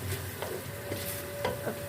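Tomatoes with red chili, ground coriander, turmeric and salt are stirred in a pan for moong dal, quiet scraping strokes over a faint sizzle, close and short, with no talking.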